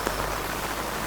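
Steady rain falling on surfaces, an even, dense patter heard close by with no voices.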